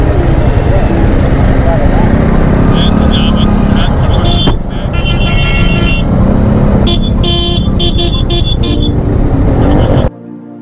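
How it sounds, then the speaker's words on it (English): Steady car traffic crawls along a rainy mountain road near a waterfall in the Munnar hills, heard from a BMW 310 GS motorcycle, with a continuous road rumble and several short horn toots, closing with a sudden drop in level. "small traffic jam, but traffic jam with a view."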